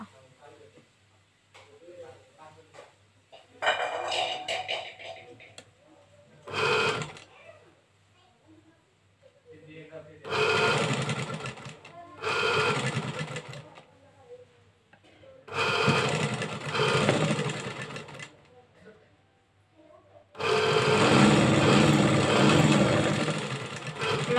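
A sewing machine stitches a yoke onto a designer blouse in several bursts of rapid, whirring mechanical chatter separated by pauses, close up, with someone speaking between and over the runs.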